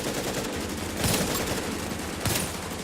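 Rapid automatic gunfire from the shooter game The Division rattles along almost without a break, with two louder bursts standing out within a few seconds of loud, dense shooting.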